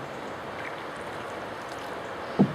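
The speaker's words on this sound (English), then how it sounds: "I can hear the roar of the weir now" Water pouring over a small weir on the River Avon, swollen with runoff from Dartmoor, makes a steady, distant rushing roar that is heard from a canoe, with a brief knock near the end.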